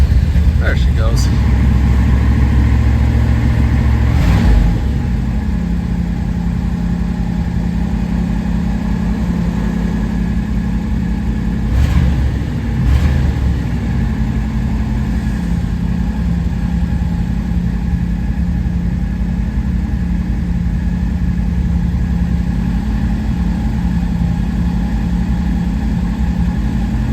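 A Cadillac with exhaust problems starts cold and settles into a steady, loud low idle with a few brief revs early on, the rough rumble running throughout.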